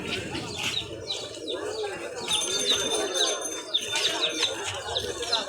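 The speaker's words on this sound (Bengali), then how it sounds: "মুরগির মতন বড় বড় কবুতর" Pigeons at a crowded pigeon market, repeated soft coos and chirps from several birds at close range over a busy background of murmuring voices and market bustle.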